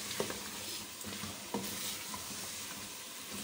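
Potatoes frying for palak gosht, a steady close sizzle with a few sharp clinks and scrapes of a spoon stirring the pan, with no talking.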